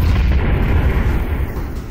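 Artillery fire in the VR game Scorched Battalion produces a loud, sustained low booming rumble that fills the whole moment, dense and heavy without any clear separate shots.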